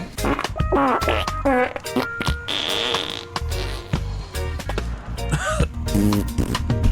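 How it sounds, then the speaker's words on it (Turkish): Cartoonish farting sounds come in a rapid series of wet, sputtering bursts of varying pitch and length from the video game Poop Killer 5, loud and close, mixed with occasional game noises. "Ya burada osurmaya başladın zaten."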